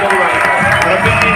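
An audience claps and cheers for four leaders at a training seminar, a dense, steady wash of applause with a voice talking over it.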